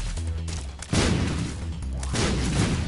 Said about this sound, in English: Explosions all around.